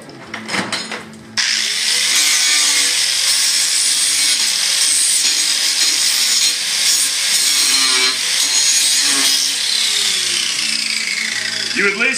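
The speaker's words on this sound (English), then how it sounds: "Now I'm going to grind all the edges to make sure that we don't have any sharp metal." An angle grinder works along the edges of metal to remove sharp burrs during radiant heat pipe installation, a loud continuous whine close by after a brief start.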